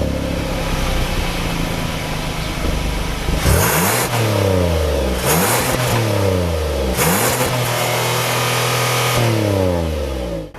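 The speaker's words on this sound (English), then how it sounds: "And now we'll have a listen to the exhaust." A Hyundai Palisade's engine idles close by, then its exhaust snarls through three sharp revs spaced about two seconds apart, each falling back to idle; loud, with no voices.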